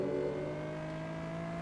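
A car engine in Test Drive Unlimited held at the rev limiter, a steady high-pitched whine at constant pitch for a couple of seconds, loud and near, with a slight waver.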